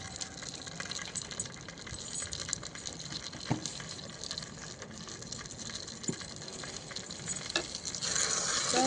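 Salted pumpkin cooking in a clay pot over a wood-fired earthen stove, giving a continuous dense sizzle and bubbling with occasional stirring knocks, steady and close throughout.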